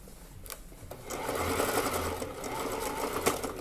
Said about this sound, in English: that straight stitch in between the zigzag stitch that I already did